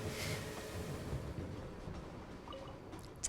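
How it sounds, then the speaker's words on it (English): A magic train moving in a fantasy video game, a steady, low, even rumble with soft rushing hiss that holds level throughout, no voices over it. "It's a magic train."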